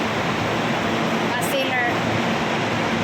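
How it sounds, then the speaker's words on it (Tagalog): A freezer in a workplace fills the space with a loud, steady mechanical hum and hiss, constant and close, like an appliance motor droning without pause. "Maingay ang ugong ng freezer."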